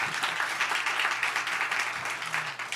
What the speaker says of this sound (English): Notice that my wife clapped for that one.